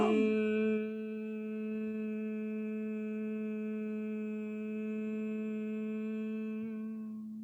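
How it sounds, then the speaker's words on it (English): A single voice holds a long, steady humming chant on one low pitch during a yoga breathing exercise, starting after a brief breath and sustained evenly for about seven seconds, fading slightly at the end. "Now we come to the throat, we do the sound hum."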